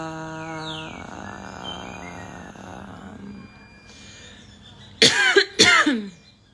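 Two harsh, loud coughs with throat clearing burst out near the end during a yoga breathing exercise, following a quieter stretch of faint tones and breath.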